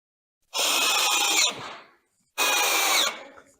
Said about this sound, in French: Et là, je viens la visser.